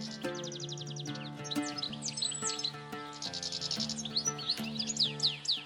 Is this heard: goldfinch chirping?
yes